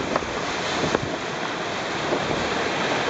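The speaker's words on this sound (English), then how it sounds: "so I'm going to wade into the surf." Ocean surf washes against a rocky shore on the Baja California coast at the Islas Coronados, a steady loud roar with wind buffeting the microphone.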